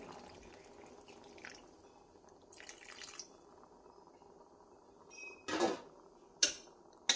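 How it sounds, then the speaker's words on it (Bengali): Water poured into a pan of vegetables being cooked, heard as a few brief splashing bursts near the end over a low, steady kitchen background. "তারপর দিয়ে দেবো একটু জল।"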